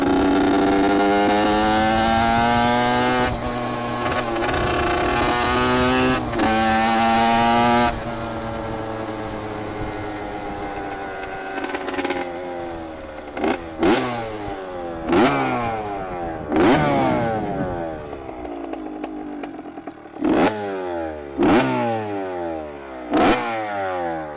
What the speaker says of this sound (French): Il y a un petit bruit de ferraille quelque part là.